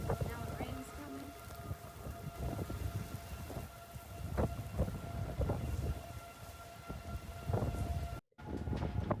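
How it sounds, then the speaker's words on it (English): Outdoor tornado sirens droning in the distance during a storm in Mississippi as rain starts falling, the steady wail mixed with rain hiss, thumps and someone speaking over it, briefly cutting out near the end. "You can hear the tornado sirens in the background."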